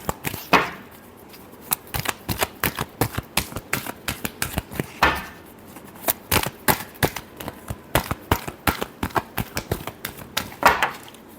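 Tarot cards being shuffled by hand, a rapid train of crisp riffling snaps and slaps in irregular bursts, close and fairly loud with no voice over them.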